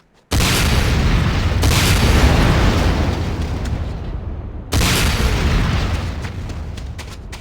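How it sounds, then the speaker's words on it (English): Rocket launcher firing with explosions in the Command & Conquer Renegade video game, two loud booming blasts a few seconds apart, each followed by a long rumbling decay. "Next up is the Sakoze 66mm Type R12 Locust automatic rocket launcher."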